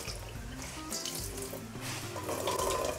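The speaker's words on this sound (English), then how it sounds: "And then we're going to pour cold water on the cauliflower." Cold water streams steadily from a tap over cooked cauliflower in a colander, a continuous splashing rush with no speech.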